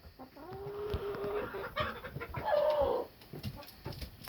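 Hens and a rooster cluck in a backyard flock, a few close, throaty calls and murmurs rising over a quiet outdoor background with no talking.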